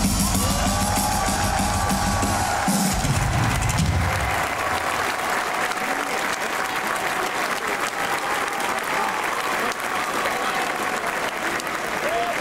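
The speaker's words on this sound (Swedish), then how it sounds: "applåd till Björn Skjöld" A large crowd at an In Flames concert at Liseberg in Gothenburg applauds guitarist Björn Gelotte with loud, sustained clapping and cheering. A lower musical rumble sits beneath the first few seconds before the applause carries on alone.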